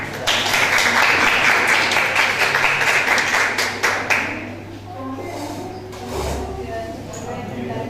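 A crowd applauds with dense, steady clapping for a few seconds at a university literature-week panel, then it thins out and fades as murmuring voices and room noise take over.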